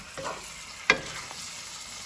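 Shrimp fry and get stirred in a pan for sambal petai, a low constant sizzle with one sharp scrape of a spatula near the middle and a few softer stirring touches, close and quiet with no speech.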